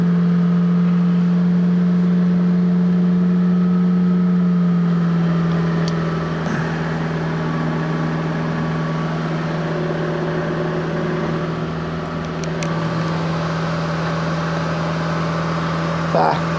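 Fiat Panda 4x4 Sisley engine starting cold on a freezing winter day, a steady loud idle with a strong low hum that drops in pitch after about six seconds as it settles, with some faint background noise.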